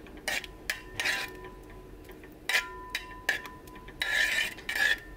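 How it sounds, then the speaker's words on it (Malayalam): Ghee being stirred with a spoon into a pot of wheat and green gram porridge, with irregular metallic scrapes and clinks against the pot, some short and some longer, close up. "നന്നായിട്ട് ഇളക്കി കൊടുക്കുക."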